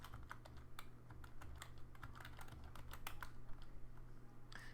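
Rapid, faint clicking keystrokes come from a keyboard as a new item is typed into a point-of-sale system, steady over a low background hum, with no talk.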